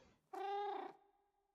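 A pet cat gives a single drawn-out, wavering cry of under a second, close and clear, then trails off into quiet.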